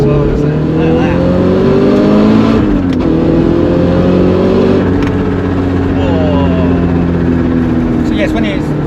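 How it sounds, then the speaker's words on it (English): A Porsche 968 Clubsport's exhaust rasps steadily while it drives, with the engine note holding, dipping and climbing again. Voices talk over it the whole way. "That's quite a nice sound out of the exhaust as well. Like it's an interesting rasp."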